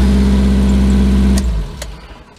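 A cheap Chinese truck engine runs close and loud with a steady low rumble, then is shut off and winds down to quiet, with a couple of clicks as it stops.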